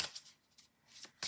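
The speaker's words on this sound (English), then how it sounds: "If any cards fall out when I shuffle, I just put them back in and then see if they flop back out." A deck of oracle cards is shuffled by hand, giving a few quick riffling bursts close by and softly, with short pauses in between.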